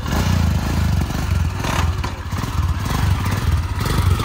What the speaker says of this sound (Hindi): अभी एक बार ट्राई लेंगे बाइक का